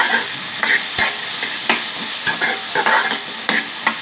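Half a potato and a tomato in pieces are stirred in a pan for spicy Maggi, with close, repeated scraping and clinking strokes over a light sizzle in an uneven rhythm and no speech.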